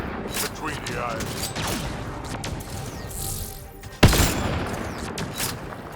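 Combat in Mass Effect Andromeda: scattered weapon shots and mechanical clatter beneath ongoing game noise, building to one sharp, loud blast near the end that rings out and decays, with a voice talking in the background.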